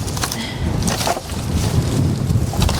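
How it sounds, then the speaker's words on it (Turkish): Gusty wind buffets the microphone in rough, steady rushes, loud and close, with no voices. "Rüzgar da fena yalnız. Rüzgar var aynen."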